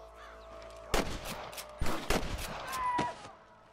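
Gunfire from the Red Dead Redemption video game: several sharp, loud gunshot cracks in separate bursts with short ringing tails, some close together, over a quiet game background.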